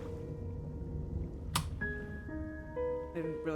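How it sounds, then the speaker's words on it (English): A water bottle being closed: one sharp, brief click, fairly loud against faint, steady background tones, with a few softer sounds afterward. "Didn't realize closing my water bottle would be that loud."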